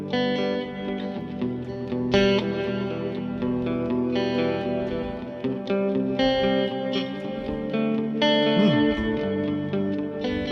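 Electric guitar chords ring out with a washy reverb tail, steady and fairly loud, notes blurring into each other without any voices.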